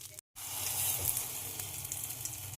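A spicy quail egg omelette fries in a pan with a steady, close sizzle. It cuts out briefly near the start, then continues alone.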